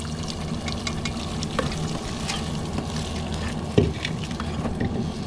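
Dal poured into a hot tempering for Rajasthani panch ratna dal and stirred, a steady close sizzle and frying crackle with scraping spoon strokes and a brief louder splash near the end.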